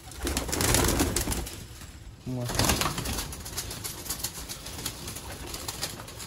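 Sialkoti pigeons cooing at close range, soft low coos rising over a noisy background with rustling and faint wing movement.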